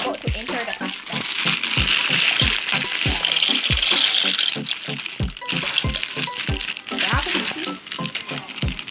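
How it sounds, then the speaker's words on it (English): Sliced onions sizzle and crackle in hot oil in a pot, with a steady frying hiss and repeated stirring knocks against the pot throughout, and voices talking over it. "So we enter the onion into the pot with oil"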